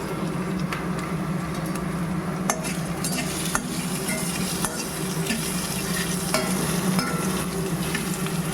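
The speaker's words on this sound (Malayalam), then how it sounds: "സവോള, പച്ചമുളക്, കറിവേപ്പില ഇതെല്ലാം ആഡ് ചെയ്ത് കൊടുത്ത് വഴറ്റിയെടുക്കാം" Potato, carrot, onion, green chili and curry leaves sauté in a pan with a steady, close sizzle, broken by occasional sharp clicks and scrapes of a spoon stirring against the metal, with no one speaking.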